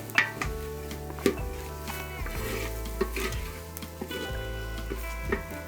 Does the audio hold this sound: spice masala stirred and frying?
yes